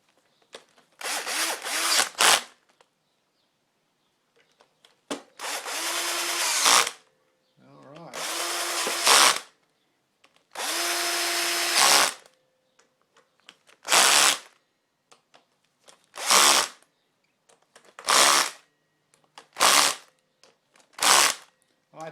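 A power drill turning the Malossi gears of a Honda NU50 Urban Express scooter engine without oil, whirring in repeated bursts of a second or two separated by silences, close and loud.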